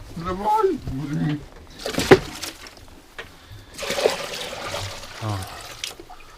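Water is poured for farm animals, including goats, on a farm in hard frost, pouring and splashing in short bursts while people talk nearby.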